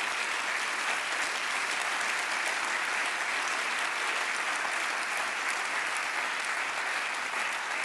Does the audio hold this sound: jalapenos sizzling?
no